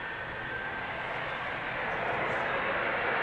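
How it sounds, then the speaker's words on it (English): KLM Boeing 777-200ER, sixteen years old, departing Amsterdam Schiphol for New York JFK: a steady, broad jet roar at middle distance that slowly grows louder throughout, with no clear breaks. "So this is a 777-200 KLM flight 645 outbound to New York JFK, 777-200ER, 16 years old."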